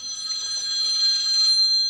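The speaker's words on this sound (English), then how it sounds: "and then the phone rings." A telephone ringing in a garage workshop during a 1978 Corvette power steering upgrade, a steady electronic trill heard faintly in the background with no talking.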